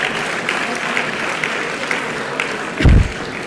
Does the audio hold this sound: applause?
yes